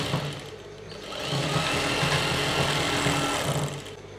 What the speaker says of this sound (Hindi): इन दो आसनों को एक साथ सिलेंगे ऐसे पकड़ के